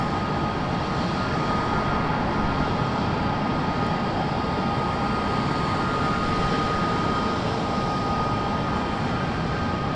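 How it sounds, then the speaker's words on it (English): American Airlines Airbus A321 arriving from Charlotte touches down at Raleigh-Durham International Airport, a constant dense jet roar, unbroken and moderately loud, with no talking. "American Airlines coming in from Charlotte, an A321. About to touch down."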